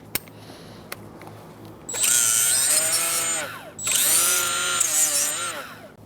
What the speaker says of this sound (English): I'm going to use the wire brush